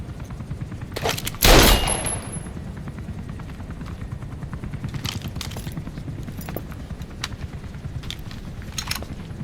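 Automatic gunfire in Metal Gear Solid V: The Phantom Pain opens with a loud, sharp burst, followed by scattered fainter shots and rapid crackling over a continuous rumbling background.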